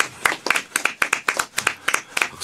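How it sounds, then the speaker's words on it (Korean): People clap in a quick, even rhythm at a birthday celebration in a broadcast studio, sharp close claps repeating roughly four times a second without a break. "박수 계속 치게 되네"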